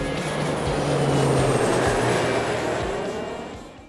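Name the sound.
Wuppertal Schwebebahn suspended monorail train passing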